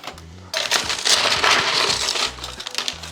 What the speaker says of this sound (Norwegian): Så jeg begynner med litt is i glasset